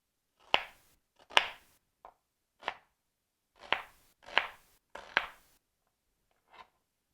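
A knife chops onions into chunks on a board, with about nine sharp, close knocks coming in uneven bursts and short pauses between them.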